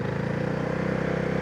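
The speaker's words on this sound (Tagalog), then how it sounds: "Pero maramdaman mo yung ugong ng makina." A Honda Navi small motorcycle engine hums steadily and low with a regular pulsing throb, continuous and fairly close.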